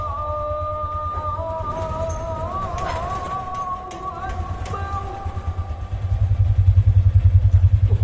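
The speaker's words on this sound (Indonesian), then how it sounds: "Ini ada orang yang bawa motor, guys." A motorcycle engine chugs at low pitch, growing louder and closer in the last few seconds as it arrives, over a backdrop of steady tonal background sound.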